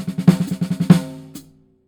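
Drum paradiddle-diddle sticking stretched over groups of four, played as a fill: a quick run of evenly spaced strokes with two heavier accents, ending on a final hit that rings out into silence.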